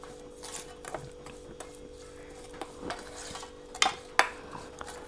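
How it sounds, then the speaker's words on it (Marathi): A spoon stirs a paste of ground neem leaves, grated onion and baking soda in a bowl, making soft, quiet scraping and rubbing with a few sharper clinks near the end and no talking. "तर हे व्यवस्थित असं जरा मिक्स करून घ्यायचंय."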